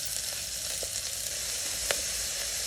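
Onions, curry leaves, green chilies and cinnamon frying in hot oil for a mutton jackfruit korma: a steady, bright sizzle throughout, with a few soft stirring clicks and no talking.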